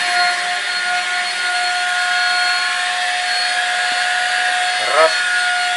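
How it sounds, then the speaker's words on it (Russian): A vacuum cleaner used to suck up mosquitoes runs with a steady, loud whining drone throughout, with a brief swell near the end as the nozzle moves. "Антошка, вот таким пылесосом мы ловим комаров."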